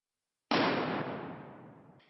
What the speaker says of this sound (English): the third one we use a small cannon.